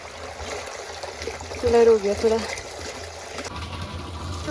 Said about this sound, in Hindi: अब यहाँ पे पानी भर रहा है